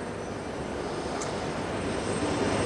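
The presidential helicopter lifts off at a Normandy landing commemoration ceremony, its engine and rotor making a steady, loud, broadband roar that fills the whole moment without pause or talking.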